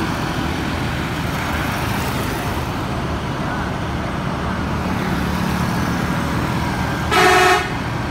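West Sumatra (Sumbar) buses pull into the crowded Omega restaurant parking lot. A continuous rumble of engines and traffic fills the scene, and a short, loud horn toot sounds near the end.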